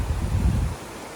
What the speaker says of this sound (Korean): 오련폭포입니다.